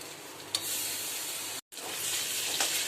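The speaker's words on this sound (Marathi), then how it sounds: "आता हे थोडंसं हिरवं वाटण आहे ते पण टाकून देते" Green spice paste hits vegetables frying in a pan and sets off a steady, close sizzle with stirring scrapes, broken by one brief silent gap before the hissing resumes.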